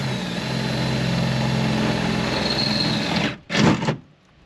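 A power drill bores into the hull of a jon boat with a continuous whirring motor. The whir runs for about three seconds, then cuts off and gives way to a short burst of louder handling noise.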